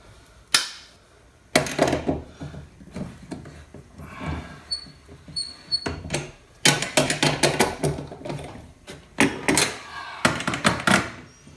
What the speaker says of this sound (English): let me get a wrench